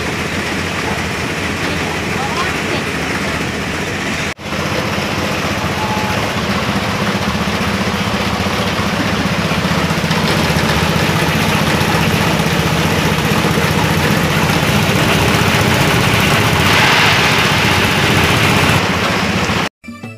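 A peanut farming machine engine runs at a steady, loud idle-like drone with a broad rattling hiss, briefly cut near the start and cut off at the end; a voice can be faintly heard amid the noise.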